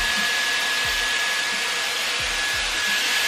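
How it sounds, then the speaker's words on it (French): A Dyson Airwrap smoothing brush blows hot air over damp front strands of hair, a loud steady whooshing hum with a high whine throughout, close and continuous. "j'allais tester la brosse lissante sur les mèches là de devant."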